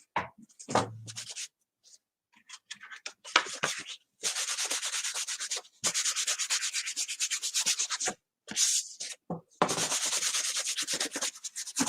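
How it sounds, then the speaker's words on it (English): Dry, rhythmic rubbing strokes of a worn sanding block in repeated bursts with short pauses between them, close and fairly loud, with no talk. "All right, nice and sanded."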